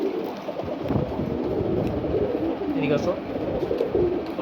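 Khaki pigeons cooing softly in a group, with low, murmuring coos running steadily under a voice calling to them nearby.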